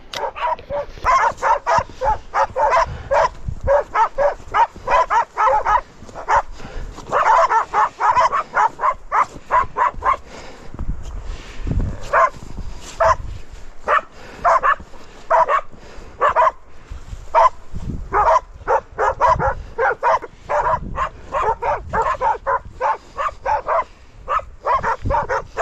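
Several hunting dogs bark rapidly and continuously at a bailed wild boar, loud and close, with frantic yips and a few squeals in the mix throughout.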